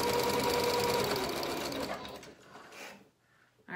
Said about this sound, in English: So I'm just zigzagging the other side of the pocket.